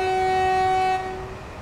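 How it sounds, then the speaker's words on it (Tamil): A locomotive horn in the Train Sim World 4 game sounds one sustained, loud chord that holds steady, then cuts off, leaving rolling rail noise underneath. "ஸோ அப்போ நம்ம வந்து நம்மளுடைய ஹாரனை வந்து அடிக்கிறோம்"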